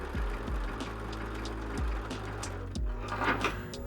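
A sewing machine running a triple stitch along a tote bag, steady mechanical whirring with a regular low thump pattern, close and continuous, no talking.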